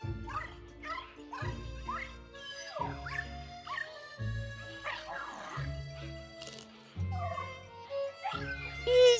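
A puppy in the video game Luigi's Mansion 3 barks in short yips and lets out whimpers, repeated in rhythmic bursts over game music, with no talk.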